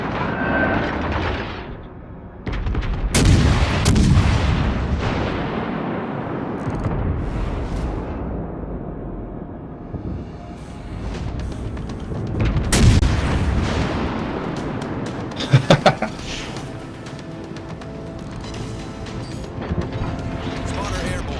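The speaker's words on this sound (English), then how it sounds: "The secondaries have started on." A warship's secondary guns firing in World of Warships Legends: scattered sharp booms and rumbling blasts over a steady battle background, with someone talking through much of it.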